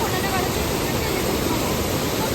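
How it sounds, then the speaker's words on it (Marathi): Steady broadband roar of a waterfall, dense and continuous like rushing water, filling the whole short stretch with no gaps or distinct events. "तर मी आता चाललोय वरती धबधब्यावर"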